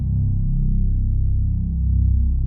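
Deep, heavy bass sample from a free beat kit, EQ'd to pull down frequencies around 100 Hz, droning steadily and loudly with slight swells and no voices over it.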